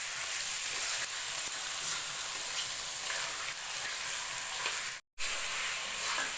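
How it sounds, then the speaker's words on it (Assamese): Chicken and potatoes frying in a pan make a steady, even hiss with faint crackles, broken by a brief total dropout of sound near the end. "আৰু এনেকৈ অকণমান ভাজি থাকিব লাগিব।"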